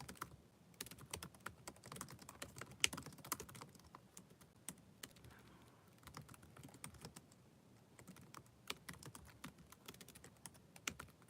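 A computer keyboard is typed on in irregular bursts of close, quiet clicks, with short pauses between runs and no talk.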